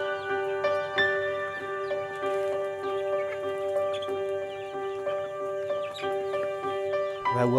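Chickens at a village poultry farm in Galgamuwa, Sri Lanka cluck repeatedly in short, overlapping calls, with some rising squawks. The nearby flock stays fairly loud and busy throughout, with no talking.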